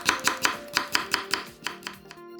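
A quarter cucumber being sliced about 0.3 cm thick with a knife on a cutting board, a run of about ten crisp, evenly spaced chops that slow and soften toward the end, alone without talk.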